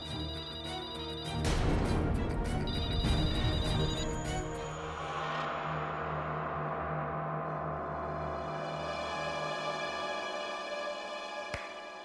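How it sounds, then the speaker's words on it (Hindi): A telephone rings in a couple of short, bright bursts over a swelling, sustained tonal drone that lingers and hums steadily afterward, with no talking. "फोन मत उठाना, कोई फोन मत उठाना।"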